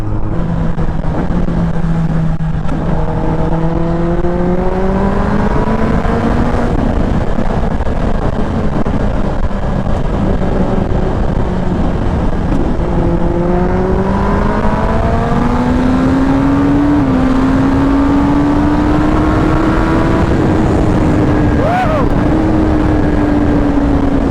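Kawasaki Ninja ZX10R superbike engine revving at night, loud and close, with rising and falling pitch as the rider shifts through gears.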